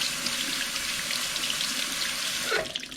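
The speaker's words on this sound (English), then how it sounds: "Rinse it with cold water to stop the cooking process." Cold tap water running steadily into a sink over blanched green beans, a constant close hiss and splash that shifts briefly near the end.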